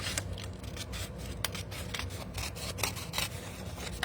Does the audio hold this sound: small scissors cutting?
yes